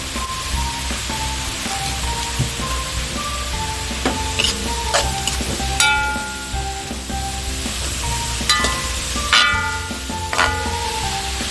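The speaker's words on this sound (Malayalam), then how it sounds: "കുറച്ച് ഇഞ്ചി, പിന്നെ കുറച്ച് വെളുത്തുള്ളി, വേപ്പില ഇതെല്ലാം കൂടി നന്നായിട്ട് മുരിച്ച് വാട്ടിയെടുക്കണം" Ginger, garlic and curry leaves sauté in a hot pan for a catfish curry, giving a steady close sizzle with occasional scrapes and clinks of a spoon stirring.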